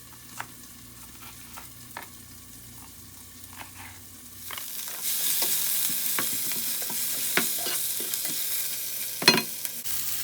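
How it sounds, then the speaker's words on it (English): Onions frying in a pan for fried rice, first a quiet sizzle with scattered utensil taps, then a louder, fuller crackling hiss as garlic and jalapeno go in and are stirred, with clinks throughout. "Looks like the onions are becoming brown, so now I will add my garlic and my jalapeno."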